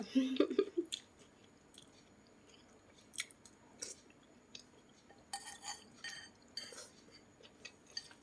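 Someone eating instant noodles in dark soup and salad alone, with soft intermittent chewing and bites plus occasional light clinks of cutlery against dishes in a quiet room.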